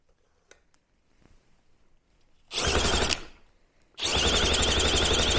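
A 1963 Evinrude Sportwin 10hp outboard motor firing up: after quiet ticks, a loud rough engine burst cuts off, then catches again into a steady, close, buzzing run.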